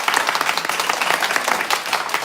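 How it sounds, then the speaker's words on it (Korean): Congregation in a church breaks into dense, even applause, many hands clapping at once in a loud sustained burst with no talking over it. "우리 같이 박수로 하나님께 감사드립니다."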